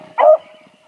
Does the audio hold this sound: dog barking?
yes